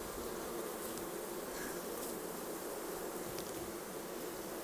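A dense swarm of honey bees hums loudly and continuously at a wild hive built inside an old abandoned car.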